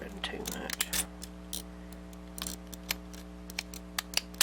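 Quiet, crisp snips of scissors cutting handmade paper, a series of short irregular cuts close by over a low steady hum, with soft speech near the start.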